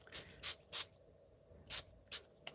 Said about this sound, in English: And we'll spray some more of the bubblegum pink right there.